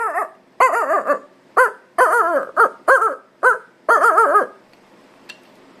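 Puppies, now grown somewhat, bark in a quick series of about ten close, loud yips and barks in uneven bursts with short gaps, ending in quiet.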